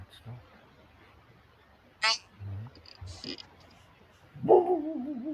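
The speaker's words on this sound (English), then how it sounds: "My dog." A dog barks and yelps a few times at moderate distance, with a louder, drawn-out whining bark near the end, amid quiet background noise and brief speech.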